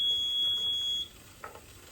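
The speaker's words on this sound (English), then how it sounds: "And that was my timer going off" A kitchen timer beeps in a steady high tone for about a second while an onion and ground beef casserole is being cooked, then cuts off, leaving faint kitchen noise.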